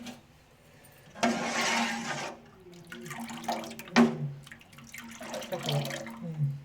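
Water poured into milk made from Anganwadi milk powder while preparing paneer at home, a splashing pour that starts abruptly, runs for about a second, then breaks into intermittent trickles and small splashes.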